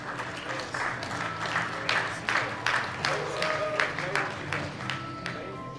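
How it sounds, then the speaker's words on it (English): Audience in an arena applauding the athletes at the World Open Powerlifting Championships, with rolling, moderately loud clapping in waves while a voice talks over it. "please extend to all of our athletes a big round of applause"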